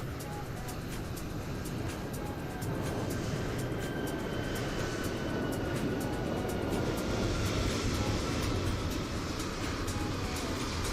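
An EasyJet airliner takes off in Microsoft Flight Simulator: a steady, loud engine roar holds throughout with a faint whine above it, building slightly after a couple of seconds.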